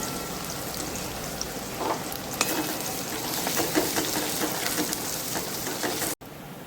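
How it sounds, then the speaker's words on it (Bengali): Sliced onions fry in hot oil for a dahi chicken dish, a dense, even sizzle with faint stirring ticks that holds steady and then cuts off abruptly near the end. "এবার ওই তেলে কেটে রাখা পেঁয়াজগুলো দিয়ে 5-7 মিনিট সময় ধরে লাল"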